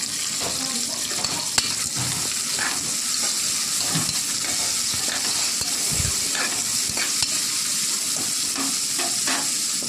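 Tomatoes sautéing with a little salt in a pan for chicken curry, a continuous close sizzle with occasional stirring scrapes and clicks throughout, no voices.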